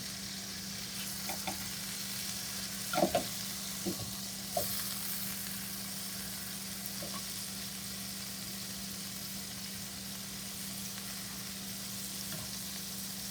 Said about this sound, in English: What's the harm in cooking the shrimp in bacon grease?